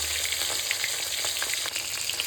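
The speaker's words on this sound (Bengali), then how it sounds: "এবার মাছের মাথাগুলো আমি একটা একটা করে সুন্দর করে ভাজবো" Catla fish heads frying in hot oil, a loud, dense, continuous sizzle close up with light crackling spatters and no talking.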